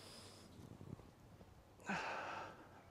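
A sharp, breathy exhale during a warm-up exercise before training, preceded by softer breathing and faint movement noises, then a strong rushing outbreath in the second half, close to the listener.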